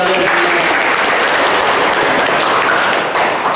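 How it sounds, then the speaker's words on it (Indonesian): A classroom of schoolchildren applauds their teacher at the start of a religion and character education lesson, a loud, dense and steady wash of clapping filling the whole stretch with no voices over it. "Tepuk tangan buat kalian."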